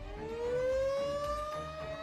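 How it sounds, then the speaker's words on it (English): An outdoor civil defense emergency warning siren during a monthly test wails in a single rising tone, steady and moderately distant, heard alone without voices. "The sirens are meant to be heard from the outside and get you indoors to listen to the media."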